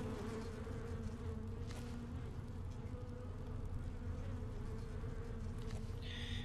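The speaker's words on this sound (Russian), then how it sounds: "Что за мухи?" Flies drone in a continuous, even buzz inside a quiet room in the game Skyrim Dragonborn, close and steady with no talking.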